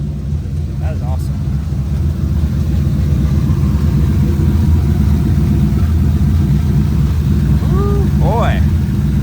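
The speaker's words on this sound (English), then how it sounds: "It's just open exhaust. There's no muffler, just the turbos." A twin turbo Ford Mustang with open exhaust, no muffler and a stage 1 cam, running on E85, gives a steady low, loud rumble throughout, and faint voices come through briefly.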